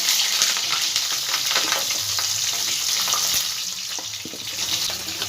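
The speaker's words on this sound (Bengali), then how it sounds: "আলুগুলো একটু ভেজে নেব।" Potatoes frying in mustard oil in a wok (kadai) for a Bengali dish: a loud, steady, close sizzle throughout, with occasional soft stirring clatters and no voices.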